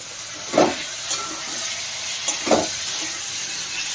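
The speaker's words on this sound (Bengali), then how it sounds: "আমাদের পেঁয়াজ আর কুমড়ো ভাজা হয়ে এসছে, এবার টমেটোটা দেবো" Tomato tipped into a pan of frying onion and pumpkin, two short bursts of sizzling and stirring over a steady hiss, close and moderately loud, no talk.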